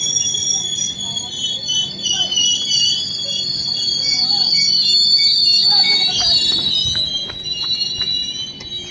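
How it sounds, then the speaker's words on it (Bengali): A train runs along the rails near a Kolkata station platform, sending out steady high metallic wheel squeal over a low rumble, with scattered clanks and faint background voices. "তো ট্রেন আমাদের আসছে।"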